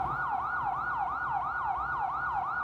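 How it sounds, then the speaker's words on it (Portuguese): A wailing siren sweeps up and down in a steady repeating cycle, loud and continuous, carrying down a street. "uma sirene ecoava pela rua."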